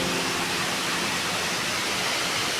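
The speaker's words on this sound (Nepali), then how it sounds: "विशेष खालको झरना हो।" Jalbire waterfall, a distinctive waterfall swollen after rain, gives a steady, dense roar of falling water that stays constant and fairly close, with no voices.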